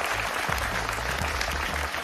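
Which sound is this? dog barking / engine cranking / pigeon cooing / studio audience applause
studio audience applause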